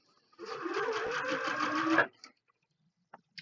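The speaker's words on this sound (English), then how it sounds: "I'm gonna sew it nice and slow and make sure as I go that I don't make it terrible." Sewing in the Cyberpunk 2077 video game: a steady, fairly loud mechanical whir like a sewing machine runs for about a second and a half, then stops, and a few faint clicks follow.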